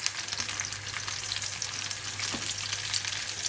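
Pork chop sautés in a hot pan, giving a steady, close sizzle of frying with soft stirring noises throughout.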